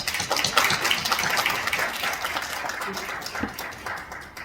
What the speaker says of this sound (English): let's give a round of applause to Tatsunori Nagu